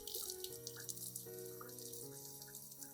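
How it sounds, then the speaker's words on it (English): Running tap water splashes over plant roots as they are rinsed, a steady soft stream with small drips and clinks, close and fairly quiet. "While rinsing, handle the plant gently to avoid damaging the healthy roots that remain."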